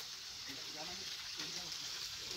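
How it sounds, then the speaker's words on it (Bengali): A mountain waterfall pours in a continuous, even rush of falling water. It sounds fairly close and steady, with faint voices underneath. "এটা এই পাহাড়ের ঝর্ণা।"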